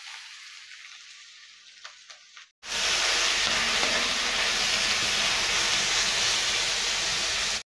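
Cut dried red chilies drop into hot oil with mustard seeds in a pan, bursting into a loud, steady sizzle after a quiet stretch with faint clatter, then frying continuously to the end.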